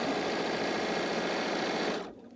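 A sewing machine stitches quilt pieces for a fabric pumpkin, running in a steady fast whir before stopping abruptly near the end.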